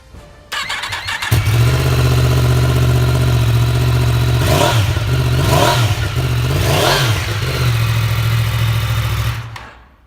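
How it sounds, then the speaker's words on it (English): A 2016 Yamaha MT-10 motorcycle with a crossplane engine cranks and fires up, settles into a deep idle, then is revved three times in sharp rising bursts before cutting off. "Bit of a beast with that Yamaha Crossplane engine. Give it a start up."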